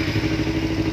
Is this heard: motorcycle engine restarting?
yes